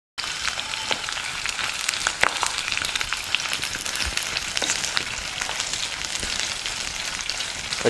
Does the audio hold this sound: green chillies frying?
yes